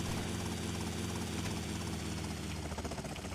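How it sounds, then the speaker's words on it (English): Helicopter in Grand Theft Auto Vice City, its rotor chop and engine drone running steadily and loudly throughout, with a slight rhythmic pulsing near the end and no talk. "So we're going to park the helicopter here"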